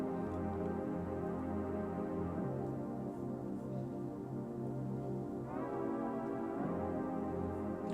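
Sustained synth pads in an amapiano remix, layered under piano chords, playing as a soft, continuous wash with shifting chords and no voices.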